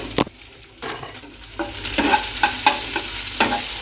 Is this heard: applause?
no